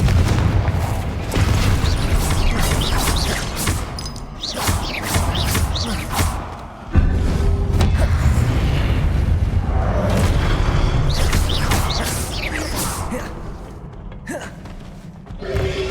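Confringo fire-spell blasts in the Hogwarts Legacy video game land as a string of heavy booms and thuds, with a sharp loud burst near the middle, amid continuous game ambience.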